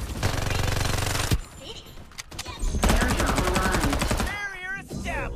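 Rapid bursts of automatic gunfire in the Farlight 84 shooter game, loud close rattling volleys broken by short pauses, with chirping and whirring game effects between the shots.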